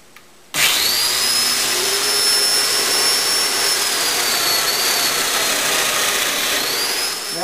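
A domino joiner cuts mating mortises into planks for a fireplace mantel, starting abruptly after a short pause and holding a loud, steady, high-pitched motor whine with a rushing, vacuum-like roar for several seconds.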